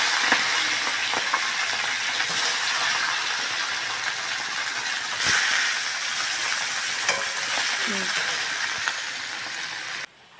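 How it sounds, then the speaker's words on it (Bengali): Bata fish, cut and rubbed with salt and turmeric, fries in hot oil in a home kitchen, giving a steady, loud, broadband sizzle that continues unbroken for about ten seconds before cutting off abruptly. "এই যে বাটা মাছটা এখন ভাজবো।"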